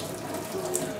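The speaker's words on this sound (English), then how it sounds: "Now I am going to drain out the excess water from this" Hot starchy water pours off freshly boiled rice for chicken biryani, a steady close splashing and trickling like a running tap into a sink, continuous for about a second.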